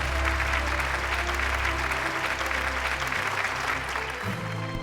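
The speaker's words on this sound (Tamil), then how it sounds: "ஒரு மிகப்பெரிய கைத்தட்டலோட யுவராணி அவர்களை மேடைக்கு அழைக்கிறோம்." A large audience claps continuously as Yuvarani is welcomed onto the stage, a dense steady wash of applause with a low hum underneath throughout.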